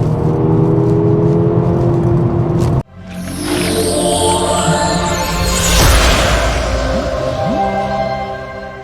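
A Volkswagen Golf GTI Mk6 being driven hard on a race track with suspension struggling through bends. The engine roars loud and close, its pitch climbing as it accelerates, with a brief cut before the revving whir resumes.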